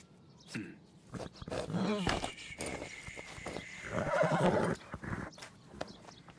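A horse whinnies loudly, a long shaky neigh, alongside snorts and hoof clops nearby.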